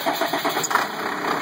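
A cold 5.9L Cummins diesel engine in a 1996 Ford Thomas activity bus cranks and catches, its rough rhythmic pulses settling into a steady close rumble with no talking.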